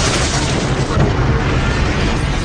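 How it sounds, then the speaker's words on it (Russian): A dark matter generator in the shooter Quake 4 explodes into a deadly dark sphere, a loud, sustained roaring blast with dense rumbling noise filling the whole stretch. "А через несколько секунд он взрывался, образуя темную смертоносную сферу."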